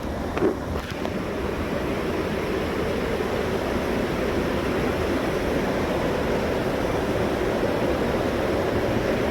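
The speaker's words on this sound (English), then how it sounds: "I love the waterfall right here" A constant, loud rushing roar of a waterfall at a blue hole fills the scene, steady and broadband without pause.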